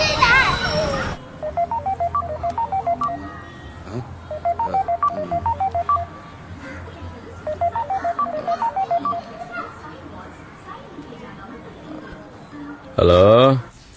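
A telephone is dialed to call an inspector, producing three bursts of rapid keypad tones at an even pace, with voices speaking at the start and end.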